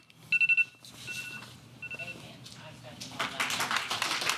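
Electronic phone-like beeps and tones sound in a city council chamber during a committee meeting, and then a burst of audience applause rises near the end, mixed with murmuring voices.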